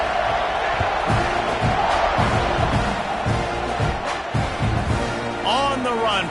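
A packed football stadium crowd at a Notre Dame game kickoff roars in a dense, continuous wall of cheering that stays loud throughout, with brief whistle-like tones near the end.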